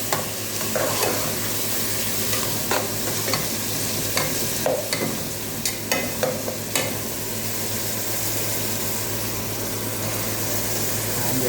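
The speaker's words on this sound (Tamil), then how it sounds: "கொஞ்சம் தக்காளியை போட்டு நல்லா வதக்கிட்டு" Tomatoes sautéing in a pan for crab curry give a steady close sizzle with a low hum beneath, broken by a run of scraping stirs and clinks of a spoon against the pan in the first seven seconds.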